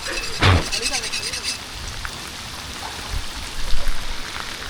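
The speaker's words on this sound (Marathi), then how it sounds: "हा बघ पावसात, भर पावसात." Heavy rain falls in a national park forest, a steady broadband hiss of downpour with a few louder thumps while people talk over it.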